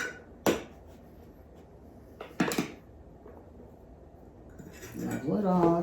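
Flour measured with a cup and stirred into bread roll dough: two sharp clinks of utensil against bowl a couple of seconds apart, a faint scrape between, then a voice speaking near the end.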